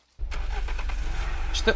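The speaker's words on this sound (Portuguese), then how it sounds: "Vamos tentar pegar este carro." A car engine in the video game Unturned cranks and catches abruptly, then runs at a steady low rumble, with a brief higher clatter near the end.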